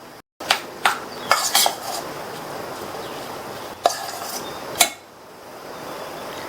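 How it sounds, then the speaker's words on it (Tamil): A spoon stirs rice flour dough as boiling water is mixed in for coconut-filled kozhukattai, giving a few sharp clinks and scrapes against the vessel, spaced out over several seconds, with no talking. "தண்ணியை கொஞ்சம் கொஞ்சமா சேர்த்து ஒரு ஸ்பூன் வச்சு நல்லா இந்த மாதிரி கிண்டி கொடுங்க."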